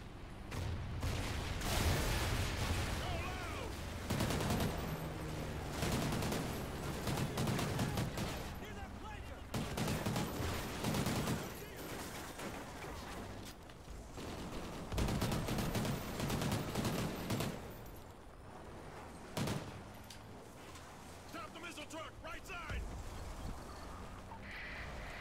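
Helicopter gun run in the video game Call of Duty: Ghosts, with sustained bursts of heavy automatic gunfire and explosions rolling on continuously, while voices talk over the battle.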